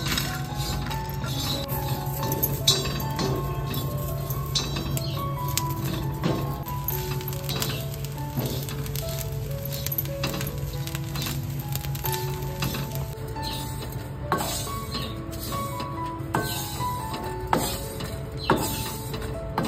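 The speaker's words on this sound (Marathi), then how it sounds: "चक्रफूल, धना, दालचिनी वगैरे सर्व घातले. तर एकदम ना आपल्याला हलका भाजायचा आहे, जास्त टाइम नाही भाजायचा." Star anise, coriander and cinnamon dry-roast in a pan for a crab masala, giving off a continuous rattle of small clinks and scrapes as the whole spices are stirred, with no talking.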